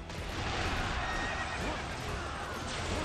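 A horse neighs in the video game Dynasty Warriors 8 Empires, a bright whinny rising above dense game noise and clip-clopping hooves, with a voice talking over it.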